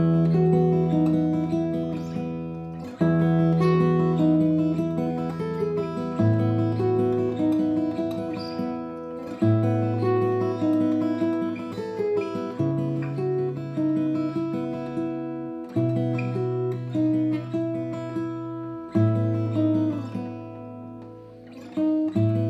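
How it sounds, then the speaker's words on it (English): An acoustic guitar plays a simple melody in a fingerpicked pattern filled out with chords, clear and close, with steady ringing notes changing every few seconds. "we can then add the finger picking pattern and the chords."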